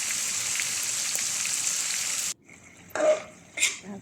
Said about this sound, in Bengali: আগে মাছটা ফ্রাই করে নিতেছি